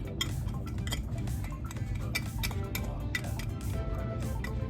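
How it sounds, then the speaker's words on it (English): Dry ingredients and crumble for apple cinnamon walnut muffins are stirred in a bowl, giving a steady run of close, light clinks and scrapes of a utensil against the bowl. "I'm gonna mix all of my dry ingredients up first"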